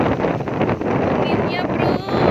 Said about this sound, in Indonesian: Ini anginnya loh.